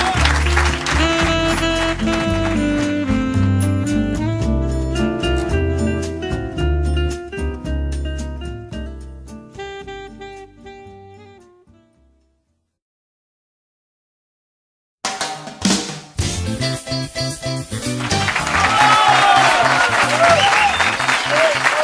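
A live audience applauds loudly at a recording of a comedy show by El Flaco Pailos. The applause fades out into a stretch of silence, then starts up again as a strong renewed ovation.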